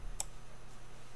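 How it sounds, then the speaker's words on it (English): A single sharp computer mouse click, close and crisp, followed by a quiet steady room hum. "click and drag that mouse forward"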